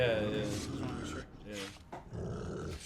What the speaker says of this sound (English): That sounded like a dog right there.